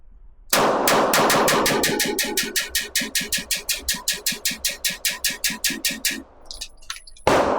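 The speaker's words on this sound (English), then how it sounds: "I like to do mag dump just to see how it feels, so let's do that." A Sig Sauer P320 Flux Raider 9mm pistol fires a rapid magazine dump, about twenty-five sharp, evenly spaced shots in quick succession, loud and close, with a brief clink after the string ends.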